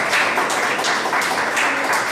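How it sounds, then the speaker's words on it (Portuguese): A church congregation claps together in dense, continuous applause, close and loud, with no talking over it. "Dá mais um aplauso forte para Jesus."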